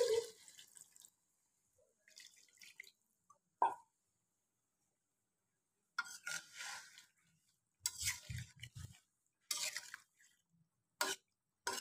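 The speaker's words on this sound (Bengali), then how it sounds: "এখন আমি দিয়ে দিব এখানে একটু পানি" Water goes into a simmering okra curry, with sparse splashes and drips broken by quiet gaps and a few louder, sputtering bursts near the end.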